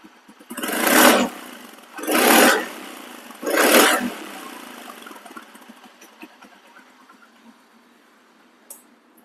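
A second-hand 2023 scooter in showroom condition revs its engine in three loud, sustained bursts about a second each, then settles into a quieter idle with faint clicks.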